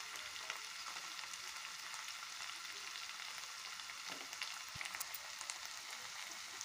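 Chili powder and turmeric spices fry in hot oil in a pan for an eggplant masala curry, giving a steady close sizzle with faint stirring scrapes and no voices over it.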